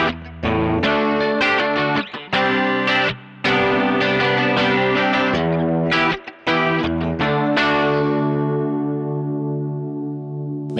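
Electric guitar through a Sonicake chorus pedal with the level turned up, giving a Boss CE-1 style shimmer; strummed chords ring loud and close with thick, wavering modulation, then the last chord decays slowly into quiet.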